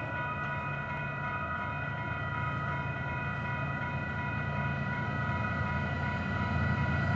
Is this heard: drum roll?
no